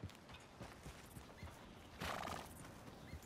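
A horse's hooves clop at a steady walking pace in the video game Red Dead Redemption 2, and a whinny breaks in partway through, all fairly quiet.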